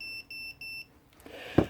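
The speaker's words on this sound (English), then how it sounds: "we've got a little self-powered 5-volt buzzer should my battery disconnect" A small self-powered 5-volt buzzer on a 5-inch FPV freestyle drone beeps five short, evenly spaced, high-pitched tones in a row, near and clear, followed by a brief knock.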